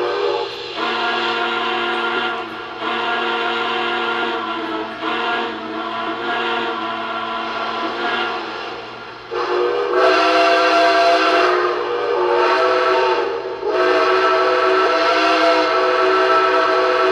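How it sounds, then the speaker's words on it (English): A Lionel O gauge model of the Union Pacific 844 Northern steam locomotive sounds its whistle in a chorus of long, loud, sustained chords, several blasts in a row with brief gaps, alone and close. "The crew sounded their farewells, and in a chorus of whistles, the journey would begin anew."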